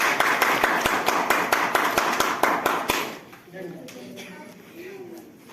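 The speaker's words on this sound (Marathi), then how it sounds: "थोड्या टाळ्या होऊ द्या" A crowd claps steadily in even rhythm at a Maha Aarti devotional gathering, loud and close for about three seconds, then the clapping stops and quieter voices and room sounds follow.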